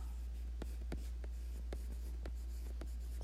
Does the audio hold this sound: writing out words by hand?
yes